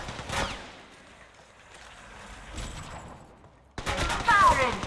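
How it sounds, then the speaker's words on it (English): Gunfire in the mobile battle royale shooter Apex Legends Mobile: a few scattered shots and a burst up front, then dense rapid automatic fire in the final second, all fairly loud and close. "Listen up, I'm getting shot at."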